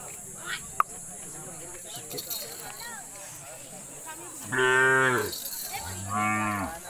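A Khillar cow at a village cattle exhibition gives two loud, close moos in the second half, after a stretch of softer background talk and a sharp knock near the start.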